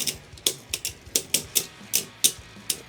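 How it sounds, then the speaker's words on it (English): Beyblade tops clinking and clanging against each other in a stadium, sharp rapid metallic clicks in an irregular rhythm, close and distinct. "You can hear the clings and the clangs for that sub AR pinging back and forth."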